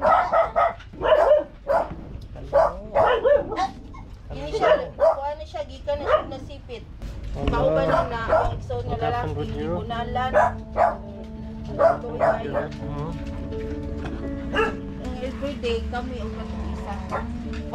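Dogs at a local shelter in the Philippines bark in sharp, repeated bursts, with some yips and whimpers, near and loud at first, then thinning out under people talking.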